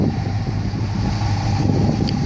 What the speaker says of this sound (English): Sounds like it might have some sort of exhaust on there.